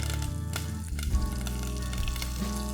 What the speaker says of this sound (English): Once the mustard seed starts spluttering, I'm going to break a red chili and add it